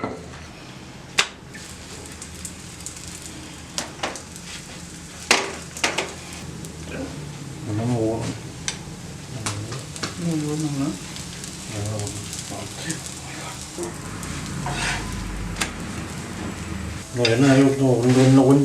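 Parotta dough frying on a hot dosa griddle, a low steady sizzle with occasional scraping and clinks of a utensil, while voices talk over it throughout.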